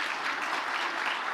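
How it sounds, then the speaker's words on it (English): An audience applauding steadily in a large hall, a dense even wash of clapping that fills the whole moment without letting up, heard with no voices over it. "who's clapping for that, bro? Why would you clap?"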